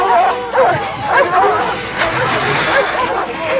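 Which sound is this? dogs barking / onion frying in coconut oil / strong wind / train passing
dogs barking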